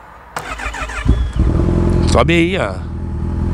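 A motorcycle without a licence plate starts up with a short cranking burst, then settles into a loud, rough idle and revs briefly. Someone speaks close by over the engine.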